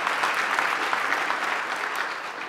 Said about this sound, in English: yes, that's a round of applause.